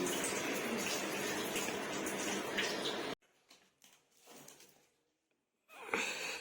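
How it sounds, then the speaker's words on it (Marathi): Clothes are washed by hand in water, giving about three seconds of continuous close splashing and sloshing, then near silence with faint drips before the splashing returns briefly. "आपण कपडे धुवायला लागला"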